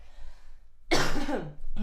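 A man coughs once, a sharp harsh burst that turns into a brief rasping throat sound, close and loud, after a moment of quiet breathing.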